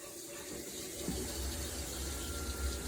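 Hot water running steadily from a tap fed by an 80,000 BTU indoor propane tankless water heater, a constant rushing hiss with a faint click near the middle, close and moderately loud.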